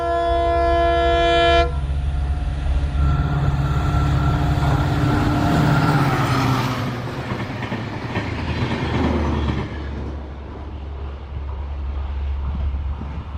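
Bikaner Humsafar Express train passing close by, opening with a loud horn blast and then a steady rolling rumble with clattering wagons that slowly fades.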